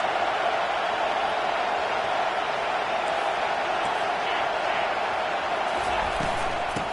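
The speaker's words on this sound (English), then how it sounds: "How about this crowd rattling the rafters and trying to help their defense?" Stadium crowd in a college football video game, a dense continuous roar holding steady throughout at full volume.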